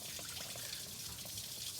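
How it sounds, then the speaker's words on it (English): Water flushes steadily through the heater core of a 1965 Chevy Sportvan, a continuous close hiss and splashing rush with no pauses. "we've got a lot more water going through the heater core right now than we did before"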